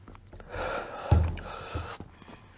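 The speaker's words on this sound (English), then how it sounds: "I can't stop hiccuping." Hiccups after eating Pepper X hot sauce: one sharp, abrupt hiccup jolts out amid heavy, strained breathing, close and loud, with softer gasping breaths around it.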